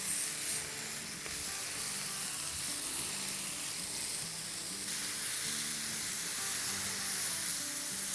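Mixed vegetables such as eggplant and chillies sizzle steadily on a hot grill, a dense continuous frying hiss with faint crackles, close and fairly quiet, with no voices.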